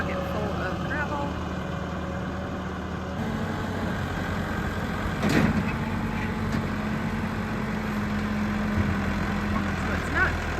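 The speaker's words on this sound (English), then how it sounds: "here the red tractor is coming in for the next bucket full of gravel" A red tractor rolls in at low engine revs on a farm to scoop a bucket of gravel, its steady diesel drone fairly close and continuous, with a brief clatter midway and someone talking over it.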